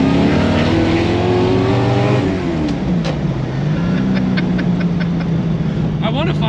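A Datsun 240Z's engine rising in pitch as it revs hard, heard from inside the cabin as a loud, raw, continuous drone that climbs, dips with a gear change, then climbs again, with a voice speaking over it.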